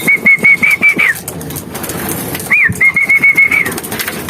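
Birds gathering to be fed peanuts and dog food, giving repeated clear chirping calls in two bursts, with some fluttering and background noise between them.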